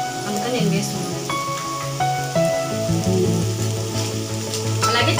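Chicken with red chilli powder and chicken masala sizzling and frying in a pan for a beans chicken curry, a steady close crackle under background music and someone speaking.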